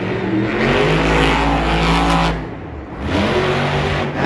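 A monster truck engine at Monster Jam Denver revs loud and close, a broad sustained roar that briefly dips and then surges again.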